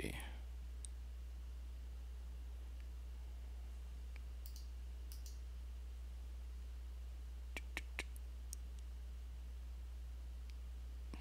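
Several sharp computer mouse clicks at close range, a few scattered early and a small cluster near the end, over a steady low hum and faint background hiss; no one talks.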